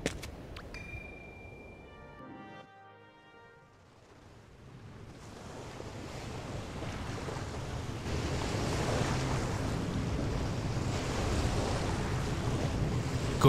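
In the video game Sky: Children of the Light, a boat sails over the ocean. After a brief chiming tone fades, a steady wash of waves and wind swells up and holds at a loud, even level, with no voices.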